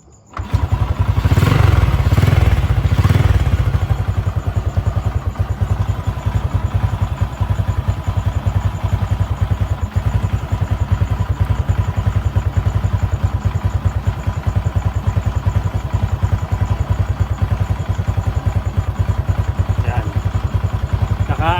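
A motorcycle engine with a full-wave charging system idles steadily with an even low rumble, starting up briefly at the beginning, close by and fairly loud, not revved.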